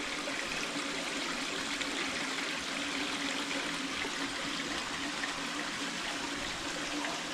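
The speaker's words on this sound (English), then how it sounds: "It's maybe just dripping." Water trickles and drips steadily from a cave in the Walls of Jericho canyon on the Alabama-Tennessee border, a soft, even wash of running water with no break, heard alone and fairly faint.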